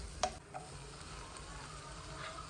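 Onion, chili and tomato fry in a pan, giving a faint, steady sizzle with a light utensil clink near the start.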